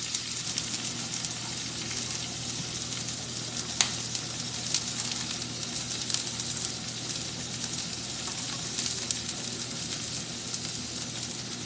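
Onions and mushrooms for a chicken stir fry sizzle in a hot pan, a loud, dense, continuous frying hiss with faint crackles and a stir or clink now and then, no talking.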